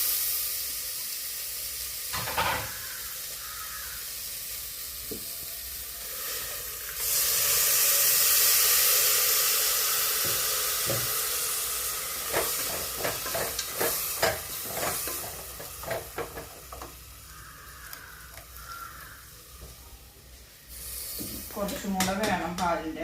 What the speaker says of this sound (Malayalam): ഇതിലേക്ക് നമുക്ക് തേങ്ങാപ്പാൽ ഒഴിക്കട്ടെ.